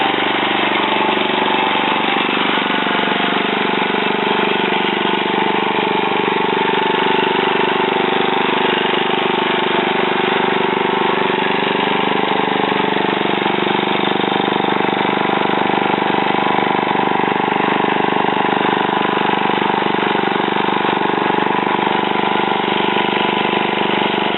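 A small mud motor engine with its stock muffler runs steadily at idle with a buzzy, mid-pitched drone, loud and close, continuing without a break and with no talking.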